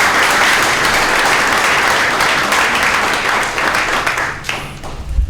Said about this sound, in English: Could you give another round of applause to this multi-talented